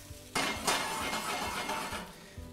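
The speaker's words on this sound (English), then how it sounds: "And then just going to stir it around a bit." A flour and water mixture being stirred in a bowl in a home kitchen, the utensil clinking and scraping against the sides in close, uneven strokes.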